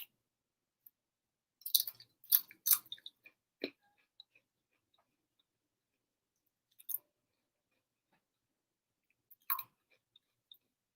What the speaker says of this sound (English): Do you see that crunch?